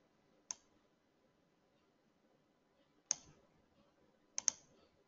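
Isolated clicks of a computer mouse: a single click, a pause, then another click and a quick double click, crisp and fairly quiet against a silent background.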